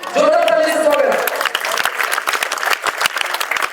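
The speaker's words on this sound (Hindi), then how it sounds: "जोरदार ताली से स्वागत।" Loud crowd applause greets people at a Saraswati Puja committee's competition exam results ceremony. A voice rings out at the start, then dense, vigorous clapping carries on at full strength to the end.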